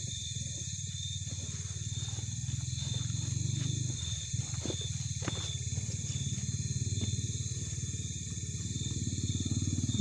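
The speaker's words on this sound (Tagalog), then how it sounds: "May dumaan pa dito na nakamotor po" A motorcycle rumbles past at night. Its low engine drone swells and fades under constant insect-like high whine and background hum, with faint talk.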